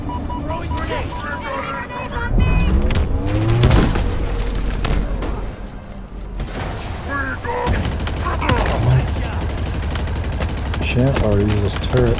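Gunfire in the video game Halo Infinite, loud bursts of rapid automatic shots and heavy booms coming in clusters, with voices and game dialogue speaking over the combat.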